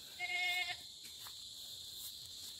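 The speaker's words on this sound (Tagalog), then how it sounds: "Dito yung mga kambing." A single goat on a rural farm gives one clear, nasal bleat lasting under a second, then quiet outdoor ambience with faint insect hiss.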